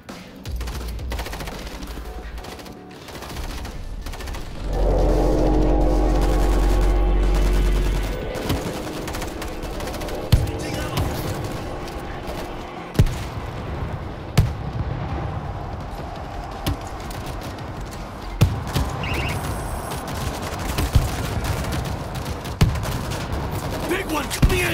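Gunfire from a heavy weapon in the zombie shooter World War Z, mixed with game noise: a dense sustained burst of rapid shots early on, then scattered single booming shots over a busy rumbling background.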